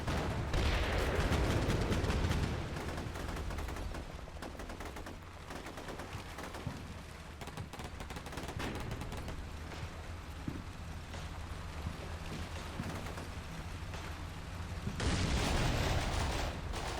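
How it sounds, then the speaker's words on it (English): Booming explosions in the war video game Combat Mission open and close a long stretch of continuous gunfire and rumbling battle noise, loud and dense throughout. "Big explosions back there."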